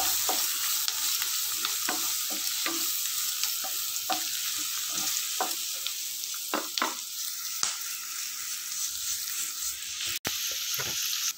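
Onion sautéing with salt, green chilies, garam masala and turmeric in a pan, sizzling steadily while a utensil scrapes and stirs in repeated sharp strokes, close and without talk.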